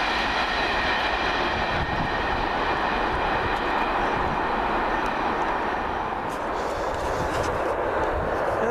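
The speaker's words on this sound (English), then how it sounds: "Get ready, because here comes my train." A train pulls into a station with a steady, loud rumble and rolling wheel noise throughout, a faint higher squeal emerging near the end.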